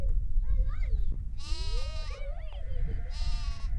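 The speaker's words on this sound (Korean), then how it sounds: "데리고 나갔던 양이며 염소를 몰고 집으로 온다" Sheep and goats bleat in the Gobi desert of Mongolia as a herd is driven home in the evening, with several loud, wavering cries overlapping near and farther off over a low rumble of wind.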